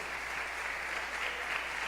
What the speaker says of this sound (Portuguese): Você sabe que um aplauso anima, né?